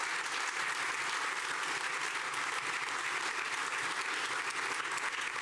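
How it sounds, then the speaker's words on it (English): Crowd applause at a Tampa Bay Rays stadium announcement, a steady wash of many hands clapping throughout, fairly distant and even in level. "if you guys would applaud them for that"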